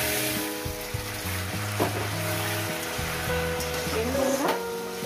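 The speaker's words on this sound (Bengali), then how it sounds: "দিয়ে এটাকে আমি আরো 1 মিনিট একটু কষিয়ে নেবো বন্ধুরা" Fish curry with okra sautéing in a pan, a steady sizzle and frying hiss with stirring scrapes throughout, with background music tones over it.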